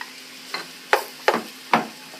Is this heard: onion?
yes